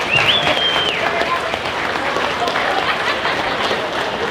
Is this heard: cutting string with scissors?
no